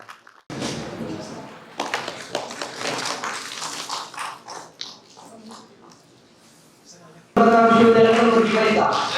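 Someone speaks into a microphone at a university celebration of Dr. Babu Jagjivan Ram's 118th birth anniversary, then a loud burst of crowd applause takes over for the final couple of seconds.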